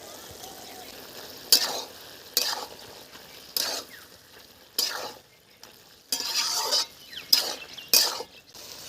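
Ground spice paste goes into a frying pan for a rustic poi-leaf and fish dish, heard as a low sizzle broken by about eight sharp bursts of scraping and stirring, close, with no talk.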